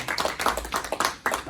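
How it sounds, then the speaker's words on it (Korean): A church congregation at a missionary report service claps together in a fairly regular rhythm, with crisp, close hand claps lasting a brief moment. "우리 하나님 앞에 영광의 박수 올려드립시다"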